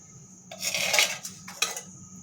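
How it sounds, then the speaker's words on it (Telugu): Stone pestle grinding fried mint into a chutney in a stone mortar, with a few close, gritty scraping strokes and a sharp clack of stone, no talking. "ఈ పుదీనా కూడా కొంచెం స్లోగానే నూరుకోండి."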